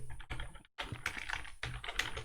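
Computer keyboard being typed on while coding Vue.js, a close, rapid clatter of keystrokes in short bursts separated by a brief pause.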